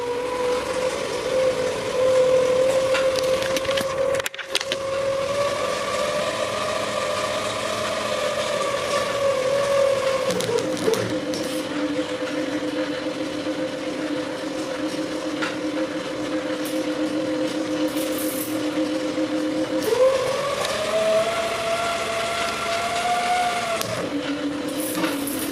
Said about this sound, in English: connect it and you can hear the sound of the motor start whining